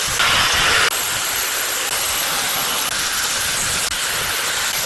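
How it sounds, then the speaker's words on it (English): A grinding wheel cleaning a tractor gearbox housing gives a loud, continuous, harsh hiss and roar, steady throughout with a slight brighter surge near the start. "The grinding wheel carefully cleans the gearbox housing."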